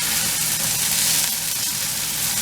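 Mini sweet peppers sizzle in a hot pan alongside onion for keto cauliflower dirty rice, a steady, close, bright frying hiss with no talking.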